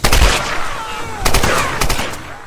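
Gunfire from the video game Tomb Raider (2013), several loud bursts of shots in quick succession, with sharp cracks near the start and again around the middle and later.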